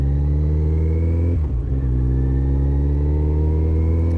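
Fuel-injected motorcycle engine holding a strong, steady drone in second gear, loud and close, with a brief dip in revs midway before it settles back to a constant hum.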